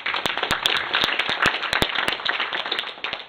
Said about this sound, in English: let's give the two co-hosts a round of applause